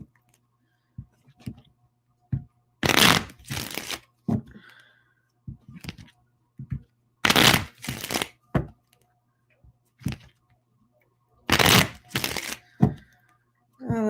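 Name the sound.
shuffling playing cards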